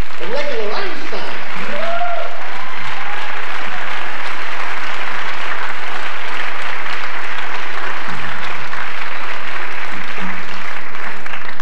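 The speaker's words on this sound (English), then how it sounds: "they deserve your nice round of applause" An audience applauds at a benefit concert in The Music Hall in Portsmouth, New Hampshire, with sustained, dense, loud clapping filling the room and brief speech near the start.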